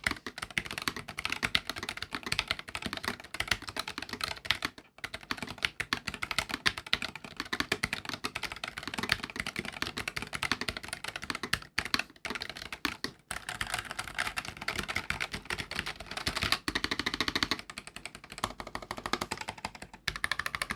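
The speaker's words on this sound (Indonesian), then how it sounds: "gue pengen lo dengerin dulu gimana rasanya kalau kita ngetik menggunakan Nuvi R60" Rapid, continuous clacking of a NuPhy Air60 low-profile mechanical keyboard being typed on, steady and close, with only a few brief pauses.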